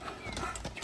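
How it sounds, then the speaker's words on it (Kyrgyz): Hooves of a parade horse clip-clop in a quick, close burst lasting under a second, with a faint whinny mixed in. "Парадка чыга турган ат экен да, жаныбар."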